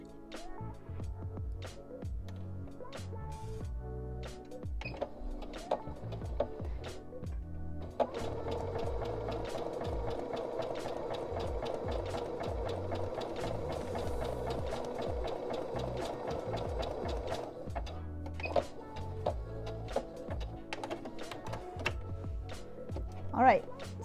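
A sewing machine runs steadily in a zigzag stitch over lace during an upcycling project, humming continuously for most of the stretch with a few brief pauses, while a person talks over it.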